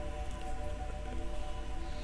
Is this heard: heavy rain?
yes